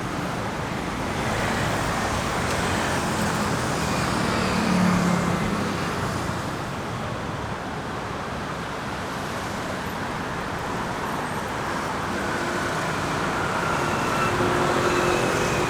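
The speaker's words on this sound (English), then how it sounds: "tuk-tuks ripping around, sounding like a Honda B16 hitting VTEC" Tuk-tuks and other traffic moving along a street in Thong Lo, Bangkok, forming a steady, dense roadway roar with engines passing at middle distance and no clear breaks.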